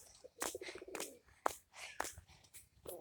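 A pigeon gives a few short, soft cooing calls at close range, mixed with faint chirps and brief outdoor noises in a quiet setting.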